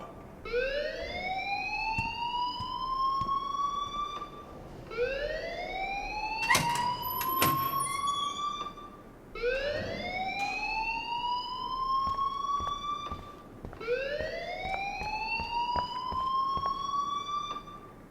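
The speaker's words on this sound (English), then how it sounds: "please turn off that alarm since that's your job" School fire alarm in the Life Is Strange video game blares in repeating rising electronic whoops, four long cycles, loud and alone.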